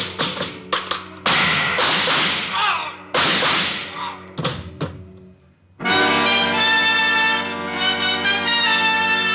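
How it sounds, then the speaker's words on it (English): A dropped shoe hits the floor in an old radio drama effect, a series of sharp taps and thuds with pauses between, followed by a sustained musical sting. "I dropped the shoe."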